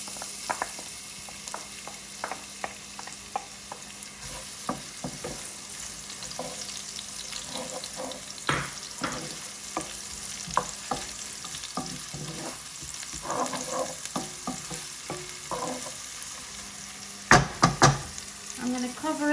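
Onions fry in a pan for meat samosa filling, a soft, continuous sizzle broken by scattered clinks and scrapes of stirring that grow louder toward the end.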